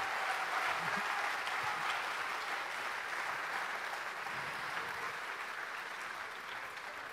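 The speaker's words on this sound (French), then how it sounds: "On l'applaudit encore super fort." A large audience claps hard and continuously at the live launch event of the French Téléthon charity telethon, a dense, even roar of applause that carries on without a break.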